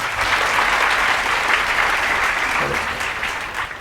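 A crowd applauds continuously at a comedy debate show, a dense, even clapping heard throughout the short stretch.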